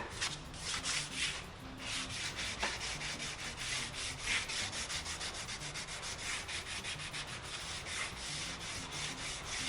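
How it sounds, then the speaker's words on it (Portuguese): Sandpaper rubs back and forth along the edge of 1 mm wood edge banding in a woodworking shop, a steady rhythmic scratchy hiss of quick repeated strokes, close and fairly quiet. "A gente passa uma lixa e o acabamento tá perfeito."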